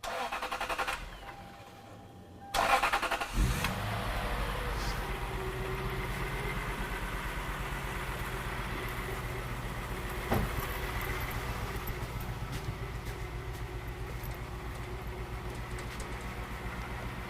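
A car engine cranks and catches during an ignition diagnostic check, then settles into a steady running drone that continues throughout, with a brief louder bump partway along.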